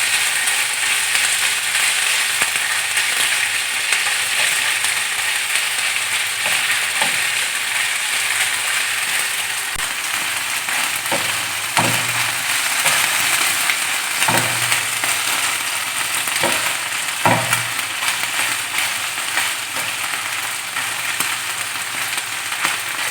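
Garlic ginger paste, about a tablespoon, frying and being stirred in hot oil on a tawa while making chicken tawa boti, giving a steady close sizzle throughout with a few brief scraping knocks of a spoon.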